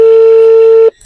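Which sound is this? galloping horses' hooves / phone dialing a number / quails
phone dialing a number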